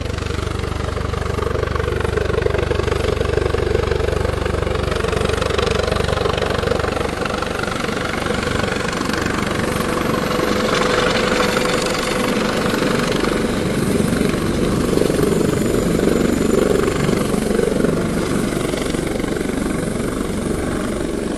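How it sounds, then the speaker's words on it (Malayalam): A helicopter lands in Kochi, its steady, loud rotor and engine roar holding throughout without letting up and no voices present. "ഹെലികോപ്റ്റർ ഇപ്പോൾ കൊച്ചിയിൽ ലാൻഡ് ചെയ്യുന്നതിൻ്റെ ദൃശ്യങ്ങളാണ് നമ്മൾ കണ്ടുകൊണ്ടിരിക്കുന്നത്"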